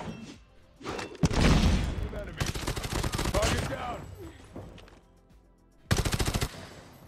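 Automatic and rapid gunfire in the mobile shooter Call of Duty Mobile, with dense bursts spread across the clip and a sharp final volley near the end, loud and close, while a player talks over it.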